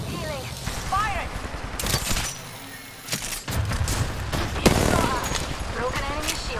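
Bursts of weapon fire in an Apex Legends battle royale match, loud close shots in clusters separated by brief lulls, with game voice lines and other effects mixed in.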